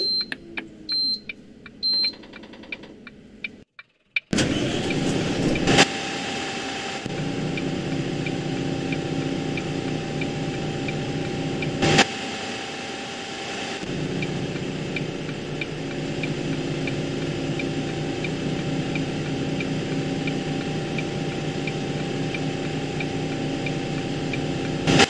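Volvo B8RLE Wright Eclipse 3 bus in Yorkshire 3.0 idling at a stop, a steady low diesel drone held for over twenty seconds, preceded by a few short electronic beeps, with a couple of brief clunks partway through.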